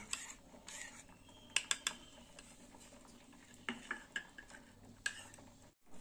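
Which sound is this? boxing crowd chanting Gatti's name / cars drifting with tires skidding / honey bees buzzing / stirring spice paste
stirring spice paste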